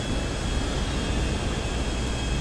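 A fixed-wing airplane flying a loop in GTA 5 Online, a steady dense engine roar with a faint high whine, constant and loud with no talk.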